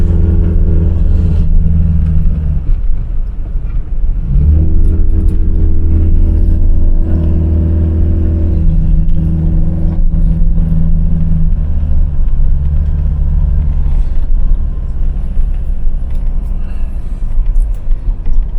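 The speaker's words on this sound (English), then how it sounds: "Cog down to second, up into third again. Doesn't hang about, that gearbox." A Mk3 Ford Cortina engine pulls through gear changes, its loud, close, low drone rising and dropping in pitch with each shift.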